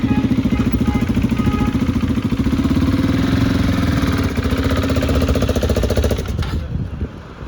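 A KTM motorcycle engine on a test ride drums with a loud, close, rapid thumping pulse that holds steady, then fades out near the end.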